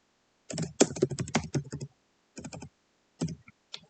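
Close keystrokes on a computer keyboard while writing code, short bursts of quick clicky taps separated by brief pauses, with no talk.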